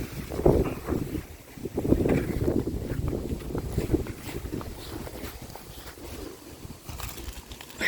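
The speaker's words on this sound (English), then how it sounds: "It's windy." Gusty wind buffets the microphone in heavy low rumbles, surging and easing unevenly throughout, with faint water and boat sounds underneath.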